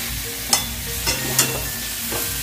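Potatoes and cauliflower tumble into a frying spice paste with a pinch of sugar, several short clattering stirs and soft sizzling over a steady low hum, no voices.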